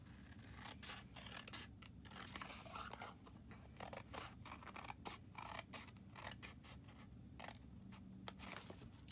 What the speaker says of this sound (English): let's cut all that strip off